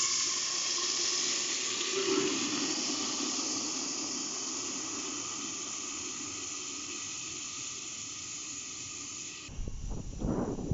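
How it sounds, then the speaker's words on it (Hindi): Steady sizzling hiss of hot ghee and onions that continues throughout, then a sudden burst of bubbling and spattering near the end as water hits the pan. "अब हम इसमें थोड़ा सा पानी डालेंगे।"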